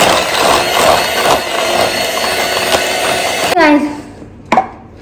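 A mixer whirring through batter with sugar, a loud steady motorized drone that cuts off near the end, followed by a brief clatter.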